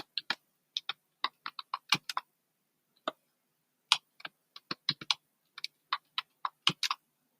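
Password typed on a computer keyboard while joining a Windows 11 machine to a Server 2022 domain: bursts of close, crisp key clicks in uneven clusters with short pauses, no talking.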